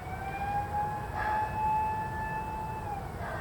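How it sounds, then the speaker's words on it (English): A distant siren wails with a slow, steady rising and falling tone over quiet outdoor air on a mountain trail near Lake Sagami in Japan, holding faint but clear for several seconds. "I don't think that siren's for me."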